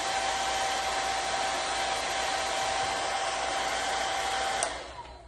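A hair dryer blows on a vinyl repair with a steady, loud whooshing roar and a faint whine to speed drying, then clicks off near the end and the noise fades.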